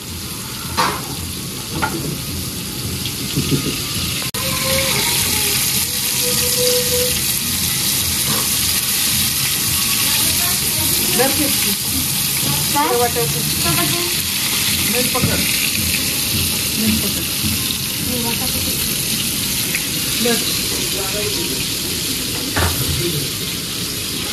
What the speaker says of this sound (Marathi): हे बघ ही कोळंबी फक्त त्यात फ्राय करून घ्यायची